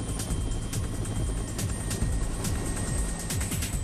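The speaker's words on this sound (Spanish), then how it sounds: "Desde un helicóptero, llevaron el extremo del cable desde el anclaje a la primera torre." Loud, continuous rotor chop of a helicopter ferrying a cable end from an anchorage to the first tower of a long bridge, rhythmic beating pulses with a steady engine whine throughout.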